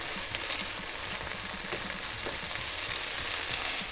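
Capers fry in a pan with garlic for a vegetable pasta, giving a soft, steady sizzle and faint stirring scrapes, fairly close, with no voices.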